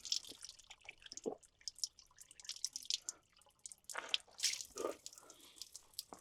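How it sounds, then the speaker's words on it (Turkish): Cold spring water from a mountain plateau splashes and drips at a village fountain in the Kaz Mountains near Çanakkale, with irregular close trickles, drops and splashes throughout and no talk. "Köylerin en güzel yeri çeşmeden su içebilmeniz."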